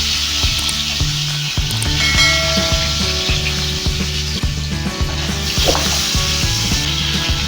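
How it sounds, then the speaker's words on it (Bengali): Fish rubbed with salt and chilli powder frying in hot mustard oil in a pan, giving a loud, dense, continuous sizzle up close with faint clinks underneath. "মাছ ভাজার জন্য দিয়ে দেব সর্ষের তেল তেলটা গরম হয়ে গেছে"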